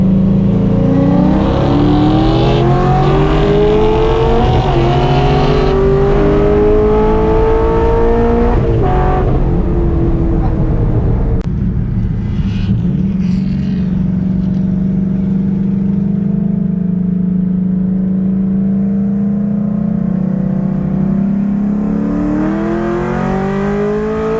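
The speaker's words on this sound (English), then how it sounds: "This is Scott's XB Falcon." A Ford XB Falcon making about 413 horsepower at the rear wheels races past, its engine loud and close with rising, sweeping revs that drop to a steady, lower drone for the rest of the run.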